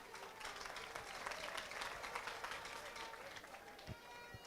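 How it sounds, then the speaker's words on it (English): A crowd at a school league grand finale event claps for guests of honor, a faint, steady patter of applause heard from a distance over background noise. "Let's clap for our guest of honor members."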